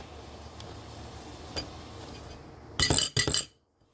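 An egg cracked open on a kitchen counter while making scrambled eggs, two or three sharp close cracking taps in quick succession after a quiet room hum.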